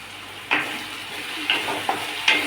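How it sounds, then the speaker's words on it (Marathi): Grated potato stir-fried in a pan over medium heat, with a constant close sizzle broken by three or four sharp spatula scrapes at regular intervals. "कमीत कमी 2-3 मिनटं तरी हा बटाट्याचा खीस परतून"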